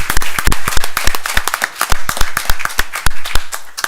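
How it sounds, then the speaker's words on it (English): An audience at a school district board of trustees meeting claps in a dense, lively round of applause, sharp close hand claps rattling steadily throughout. "Let's have another round of applause for Mr."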